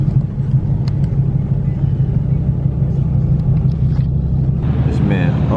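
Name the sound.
BMW E36 car engine at race night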